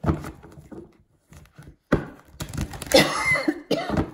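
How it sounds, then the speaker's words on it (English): A few sharp coughs close to the microphone, bursting irregularly with short pauses, followed by rougher throat-clearing sounds. "Still a little cough going on here."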